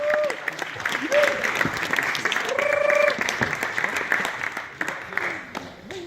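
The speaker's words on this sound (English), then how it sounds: "So give Marcel a big round of applause, please." An audience claps steadily through the whole stretch, a moderate, even applause with voices and cheering audible over it.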